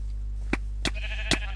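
Three short sheep bleats from Minecraft, evenly spaced over a steady low game hum, fairly close and clear with no talking.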